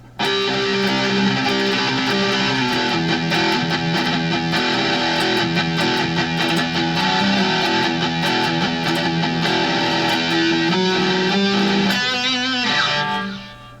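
Heavily distorted metal rhythm guitar chugs through a dense, loud riff with galloping palm-muted rhythms and sliding notes, continuous for most of the stretch before a final slide and abrupt stop.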